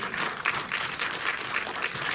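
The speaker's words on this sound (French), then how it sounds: "Vous pouvez l'applaudir à nouveau, je crois, Yéyé." An audience in the Méliès cinema in Montreuil applauds after a screening, a dense continuous wash of clapping from many hands, steady and moderately loud with no voices over it.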